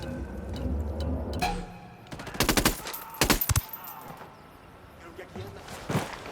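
Sharp gunfire bursts crackle in Ghost Recon Wildlands, a couple of quick rapid volleys in the middle with scattered single shots, over a murky game background and occasional voices.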